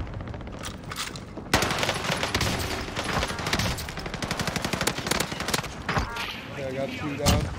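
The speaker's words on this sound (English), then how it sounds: "he's shooting me too" Rapid gunfire from a shooting video game, with bursts of automatic fire and single shots repeating loudly over several seconds, continuous and close, mixed with in-game action.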